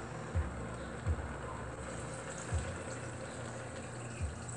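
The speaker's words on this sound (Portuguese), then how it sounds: "E nós vamos colocar água até cobrir" Water is poured into a pressure cooker over yakisoba noodles, a continuous steady flow with a few soft knocks and clunks along the way, no talk.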